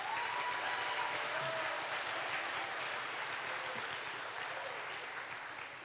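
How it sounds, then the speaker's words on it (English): A school audience applauds students at senior speeches, a thick continuous wash of clapping that starts loud and slowly tapers toward the end. "give these wonderful students one more round of applause"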